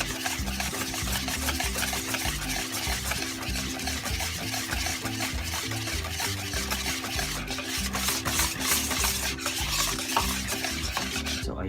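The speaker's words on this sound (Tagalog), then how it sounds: "i-mix lang natin siya ng i-mix guys hanggang mag-combine ang ating nilagay" No-bake yoghurt cheesecake ingredients being stirred together in a bowl, a steady scraping and swishing that continues throughout without pause, with no talking.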